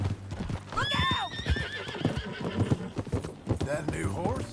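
A horse in Red Dead Redemption 2 gives a loud, close neigh over steady clip-clopping hooves, with voices murmuring alongside.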